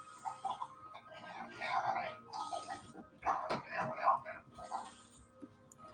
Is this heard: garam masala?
no